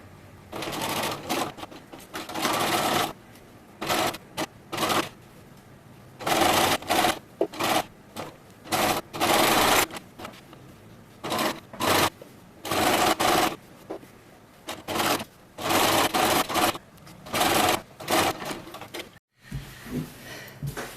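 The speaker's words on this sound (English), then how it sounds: "Now that this has been sewn on with the zigzag" A sewing machine stitches a zigzag seam on a t-shirt for a ghost mermaid costume, running in loud, close bursts of rapid needle clatter separated by brief pauses.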